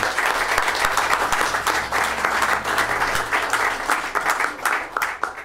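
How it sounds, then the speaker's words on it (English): A round of applause for volunteer coaches at a city council meeting, with dense, steady clapping from a room of people that carries on loudly for several seconds. "how about a round of applause for the coaches for their volunteering?"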